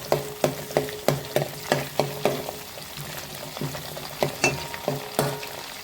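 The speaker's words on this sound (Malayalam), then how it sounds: "നല്ലോണം നമുക്ക് ഫ്രൈ ചെയ്ത് ഒന്ന് വാടി വന്നാൽ മതി" Gooseberries fry with curry leaves in a pan for pickle: a spoon scrapes the pan in quick, rhythmic strokes over a steady soft sizzle, close and clear.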